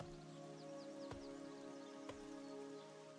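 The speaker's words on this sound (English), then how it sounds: "Ooh, it's raining." Soft steady rain falls in the fantasy game Monsters & Memories, a faint patter beneath sustained tonal game music, with two brief sharper ticks.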